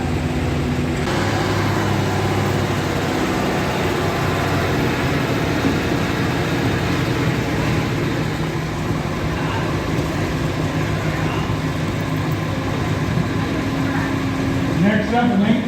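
The Kawartha 20 antique tractor's engine roars through a pull at an antique power show, a loud, continuous rumbling drone that runs throughout while an announcer's voice comes over it.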